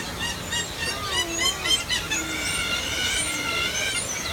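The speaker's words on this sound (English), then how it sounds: "look at the birds having a good time up there" Birds at Disney's Animal Kingdom give shrill, rising and falling squeals and whistles, several overlapping calls at moderate distance over a steady outdoor background hum.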